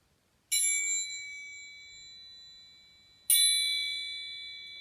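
Two clear metallic dings, a few seconds apart, each ringing out smoothly with a long shimmering decay in otherwise quiet surroundings.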